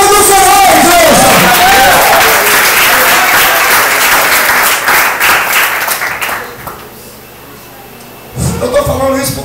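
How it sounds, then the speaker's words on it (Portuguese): A church congregation breaks into loud, dense applause with shouts and cheering voices mixed in, swelling then thinning out before a few scattered claps and voices return at the end. "Aplaude o nome do Senhor, igreja."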